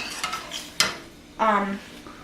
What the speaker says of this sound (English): you want to start to stir it very slowly